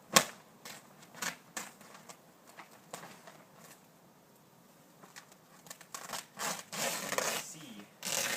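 A palm frond being cut off by hand, heard as a series of close, crisp snips and crackling cuts with irregular rhythm, growing louder and denser toward the end.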